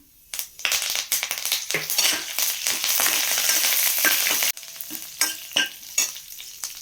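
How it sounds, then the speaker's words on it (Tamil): A sprig of curry leaves dropped into hot oil with dried red chillies bursts into a loud, crackling sizzle for about four seconds, then fades to scattered pops and spatters, with no voices. "இந்த ஸ்டேஜில் வந்து கருவேப்பிலை ஒரு கொத்து போட்டுக்கலாம்."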